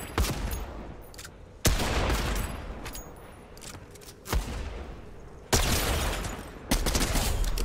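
Rapid bursts of gunfire in the video game Fortnite, several loud volleys in quick succession with short gaps between them, close and dominant, with no talking.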